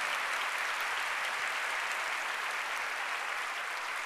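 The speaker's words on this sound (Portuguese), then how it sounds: "Pode aplaudir o Senhor" A church congregation at an evening Baptist worship service claps for the Lord, a dense, even roar of applause from a large crowd that holds steady and fairly distant throughout, with no voices on top.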